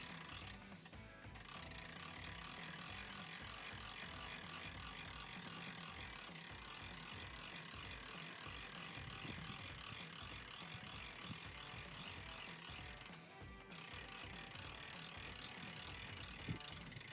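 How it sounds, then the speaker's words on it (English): A hand crank turns in the rear bumper of an HPA 235 Poppy pop-up camper, giving a steady, close ratcheting click that runs almost without a break, with two brief pauses. "You're going to use this crank, insert it into the rear bumper, make sure it's in there nice and tight, and crank it to the open position."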